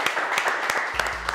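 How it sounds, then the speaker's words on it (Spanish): Applause from a small group at a Puerto Rican couple's business tour, a short burst of scattered clapping with a low hum entering near the end. "Vamos a darle un aplauso."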